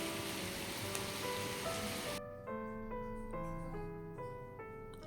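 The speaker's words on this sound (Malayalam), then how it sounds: "മഴയുടെ സൗണ്ട് ഇഷ്ടമുള്ളവരുണ്ടോ?" Steady rain hisses for about two seconds, then gives way to a gentle melodic chime tune of repeated plucked notes. It is moderately loud, with no voices.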